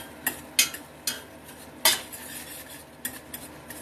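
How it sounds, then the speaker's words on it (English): A utensil stirs greasy chili meat in a metal pan, giving a handful of sharp scraping clinks spaced irregularly over a low background, with no voices. "We're going to stir it up"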